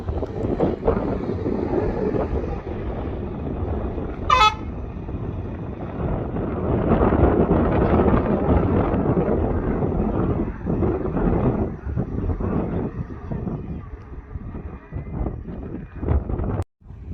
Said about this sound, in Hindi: आप आवाज़ में हवा की सरसराहट भी महसूस कर रहे होंगे